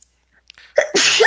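A single close sneeze breaks the quiet, a short sharp intake followed by a loud explosive burst of breath.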